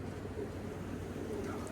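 Pigeons at a racing loft with a landing board, soft low cooing under a steady background hum, faint and continuous for under two seconds, with no talk.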